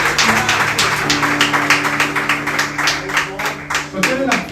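A church congregation claps steadily and loudly in praise during a service, the dense rhythmic clapping running throughout, with sustained musical or vocal tones held underneath.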